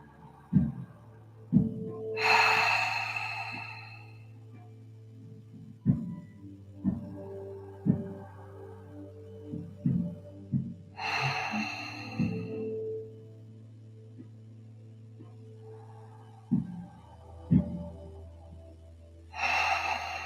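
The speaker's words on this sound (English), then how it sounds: "Again, let's breathe in." Slow, deep breaths in and out during a conscious connected breathing exercise, close and alone, several long inhales with audible airflow separated by quiet pauses and soft clicks.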